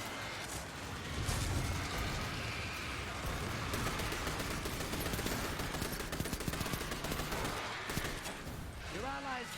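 Rapid automatic rifle fire in Destiny 2, dense and continuous for most of the stretch with game effects and explosions mixed in, loud and close, with a speaking voice underneath.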